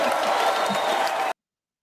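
A crowd at a live comedy and comics talk show applauds in a dense, steady burst of clapping that stops abruptly after about a second.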